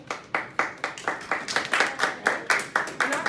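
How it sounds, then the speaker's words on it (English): Student audience at a high school talk claps in a loose, regular rhythm, about a dozen distinct bursts of hand claps close by, with no voices over them. "thank you for the applause"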